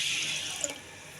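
Water pouring steadily over soaked brown rice in a kitchen, a close, continuous rushing stream that stops partway with a small splash and drip.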